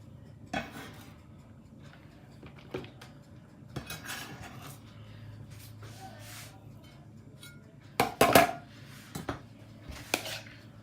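Raw beef tartare being stirred in a bowl with a utensil, giving soft wet scraping and occasional sharp clinks of metal against the dish, sparse and uneven, with a louder cluster of knocks toward the end.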